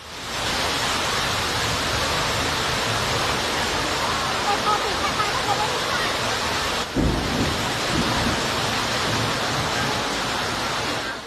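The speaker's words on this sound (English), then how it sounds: "Heavy rain and fierce winds tore through this large gathering area in Cambodia" Steady, loud broadband roar of heavy rain and fierce wind tearing through a large outdoor gathering area in Cambodia, with a brief low rumble near the end; no clear voices stand out.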